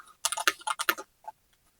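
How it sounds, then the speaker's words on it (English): Typing on a Monsgeek Fun60 Ultra 60% Hall Effect keyboard: a quick burst of close, crisp key clacks in an uneven rhythm, followed by a few scattered softer presses. "So let's do a quick typing test."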